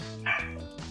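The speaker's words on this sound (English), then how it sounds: "That's a dog." A dog gives a short, close bark-like yip, one brief burst in an indoor setting with no talk over it.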